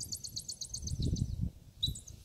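A California ground squirrel outdoors gives a quick series of high, sharp chirps, then a short pause and another burst, over low rustling and background noise.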